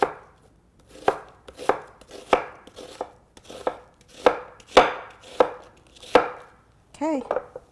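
A knife slicing an onion on a cutting board in a home kitchen: about ten sharp, evenly spaced cuts, close and clear, with no talking.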